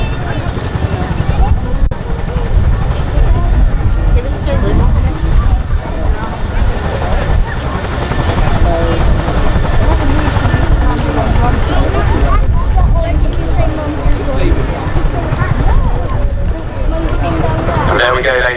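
A Boeing Chinook HC.6 helicopter hovers at an air festival, its heavy rotor thrum and engine roar loud and continuous while a commentator talks over the top.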